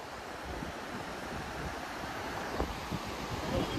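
River water rushes steadily through the Tirthan Valley in Himachal, a broad, constant roar heard up close with some wind buffeting the microphone and no voices.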